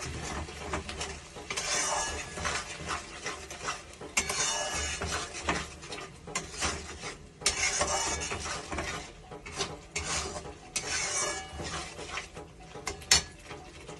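Parshe fish gets worked into spices in a pan, heard as continuous close scraping, clattering and shuffling of a utensil against the cookware, uneven but steady.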